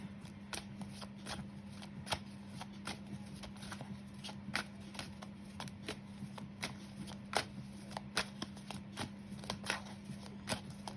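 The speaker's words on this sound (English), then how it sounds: "Okay, so I'm done shuffling." Rapid shuffling of tarot cards, a steady riffle of crisp slaps and flicks repeating throughout, close by, with a low hum underneath and no talking.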